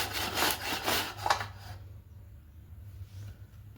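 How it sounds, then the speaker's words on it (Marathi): Pumpkin grated on a large kitchen grater: several quick, close rasping strokes in a rhythmic burst that then fade to a quiet hum. "तर आपण हे किसून घेऊया मोठ्या किसणीला."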